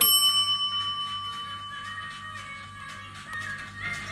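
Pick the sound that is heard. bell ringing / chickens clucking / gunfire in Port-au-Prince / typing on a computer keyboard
bell ringing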